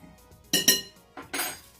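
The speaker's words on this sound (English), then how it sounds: "Just stir those together." Dry ingredients with baking powder stirred together in a bowl, two quick bursts of scraping and clinking utensil against the bowl, a pause, then another short stir, close and fairly loud.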